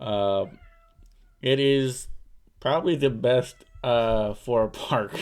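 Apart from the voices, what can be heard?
cats meowing outside the office door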